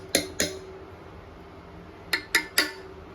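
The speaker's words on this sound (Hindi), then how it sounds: "अब 1 चम्मच मैं पिज्ज़ा सॉस डाल रही हूँ" A metal spoon clinks against a pan or bowl while pizza sauce is added to pasta, giving five sharp taps in two clusters, two early and three later, over quiet kitchen background.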